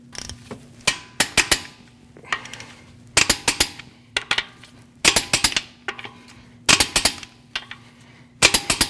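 A torque wrench tightens the wheel lug nuts on a 2014-2023 Jeep Cherokee in crisscross order, giving loud, close bursts of sharp metallic clicks and ratcheting, separated by short pauses, with no talking.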